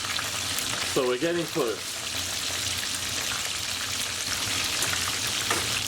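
Macadamia crusted chicken strips deep frying in oil make a dense, continuous bubbling sizzle, with a brief spoken remark near the start riding over it.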